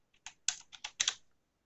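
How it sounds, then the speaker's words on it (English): A value entered on a computer keyboard into an Excel spreadsheet: about six crisp, close keystrokes in a short burst, then silence, with no talking. "Just type it in"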